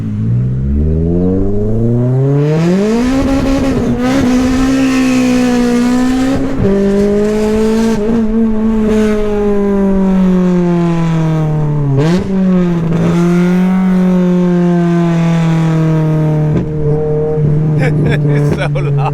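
A K24-swapped Honda FN2 Type R is driven hard, its engine revving loud and close from inside the cabin. Pitch climbs and drops through gear changes, with a sharp dip around the middle.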